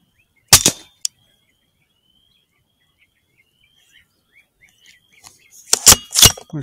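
A rifle being zeroed through a Pulsar Thermion XP50 thermal scope fires one sharp, loud shot followed by a quick click, then quiet insects and distant birds before a couple more sharp reports near the end.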